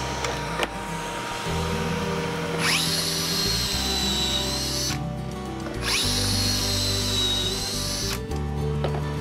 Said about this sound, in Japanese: クレック推奨の深さでポケットホールを開けていきます